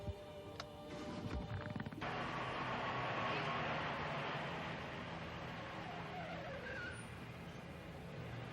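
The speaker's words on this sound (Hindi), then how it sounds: "चलिए आप गाड़ी शुरू कीजिए" A car engine starts and pulls away, a broad steady motor rumble holding loud and close after an abrupt start, with faint voices underneath.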